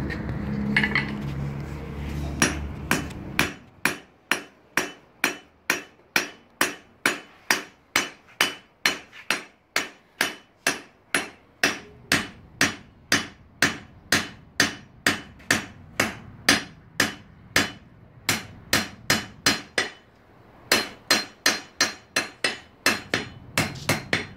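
A hammer strikes a utility knife blade being forged, dozens of sharp ringing metallic blows in a steady rhythm with brief pauses, close and loud, preceded by a short rumbling noise.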